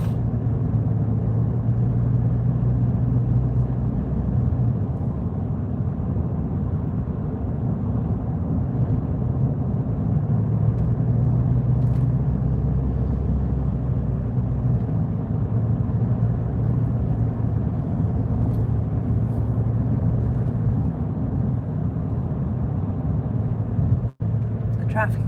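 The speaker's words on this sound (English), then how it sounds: "Traffic isn't too bad at the moment, which is really nice." Steady low road rumble of traffic passing on a highway near Landsborough on the Sunshine Coast, continuous and fairly loud, heard from inside a moving car.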